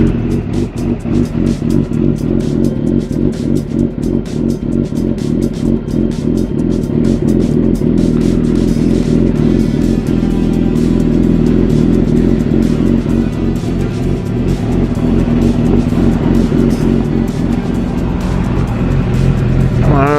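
Suzuki Gixxer sport motorcycle on a cold-weather ride, its engine droning loud and close with a continuous pulsing rumble and wind buffeting throughout.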